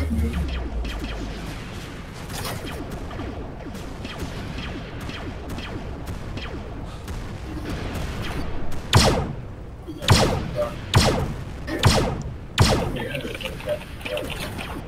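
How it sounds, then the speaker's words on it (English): A busy barrage of explosions and thuds in the game StarSim, with several sharp, loud bomb blasts bursting out in quick succession near the end. "That's a lot of bombs."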